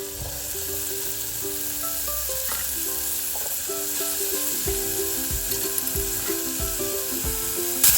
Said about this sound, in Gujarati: ને ચણા નાખીને હવે શાકને હલાવી નાખવાનું